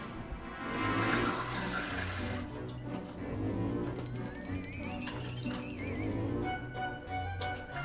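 Warm water poured into sourdough starter in a kitchen, a steady splashing pour running through the whole stretch over a busy background clatter, fairly close and moderately loud, with no talking.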